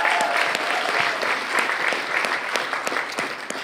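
A room of attendees at an entrepreneur speaker series event gives a steady, sustained round of applause, even and continuous throughout with no voices.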